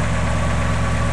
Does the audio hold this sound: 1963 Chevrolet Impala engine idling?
yes